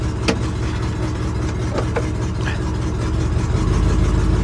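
An abandoned International truck engine runs in reverse against the set e-brake: a steady, loud, low rumble that swells and strains harder near the end.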